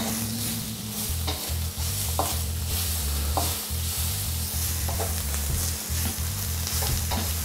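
Onions or shallots sauté in hot oil with garlic and ginger for a Chettinad shrimp dish, giving a steady close sizzle with scraping stirs and a low droning hum underneath.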